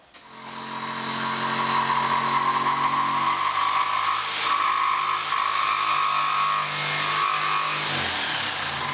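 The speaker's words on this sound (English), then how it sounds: "when our jigsaw comes along here, we can then angle back the jigsaw" A jigsaw cuts a sink opening in a kitchen bench top, a loud steady buzzing, rasping drone close up that runs almost the whole time and fades as the cut stops.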